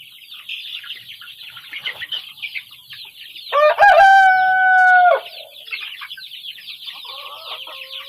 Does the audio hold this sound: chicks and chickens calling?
yes